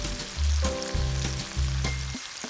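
Diced onion with red and green peppers frying in a pan, a close, steady sizzle with low rumbling swells and faint stirring, no talking.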